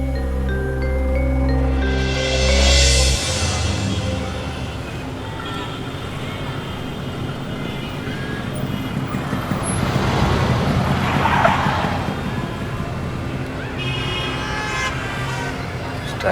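Road traffic rumbles steadily, with a long loud car horn blast at the start and a busy mix of engines and scattered honks continuing throughout.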